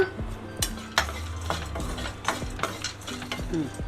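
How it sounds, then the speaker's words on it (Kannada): Dried turmeric root dry-roasted in a pan alongside cinnamon, cloves and chillies for sambar powder, a spoon scraping and stirring in irregular strokes with small clinks against the metal, close and clear with no talking. "ಈಗ ಅರ್ಶಿನ ಕೊಂಬ ಹಾಕೊಳ್ಳೋಣ, ಅದು ಹುರ್ಕೊಳ್ಳೋಣ"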